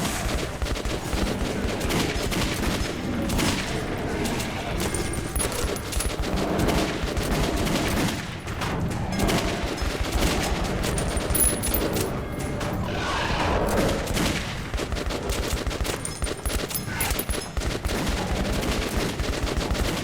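Gunfire from a weapon in the video game Metro 2033 Redux, loud repeated shots and bursts over a dense, noisy game soundscape with booms, continuing for the whole stretch without speech.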